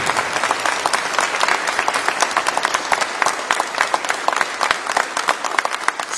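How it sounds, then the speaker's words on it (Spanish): Church congregation at a Lenten parish mission applauding the Lord, loud, close and vigorous clapping with many distinct sharp claps, sustained evenly from start to finish. "Yo creo que debemos darle un aplauso al Señor"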